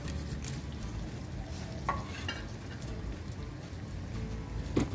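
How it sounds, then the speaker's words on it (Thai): Dried mackerel chili paste is mixed with fried kaffir lime leaves. The paste gives a soft, crackly stirring rustle, with a couple of quick utensil clicks near the start and end. "คลุกเคล้าให้เข้ากับ น้ำพริกปลาทูของเราเลยค่ะ"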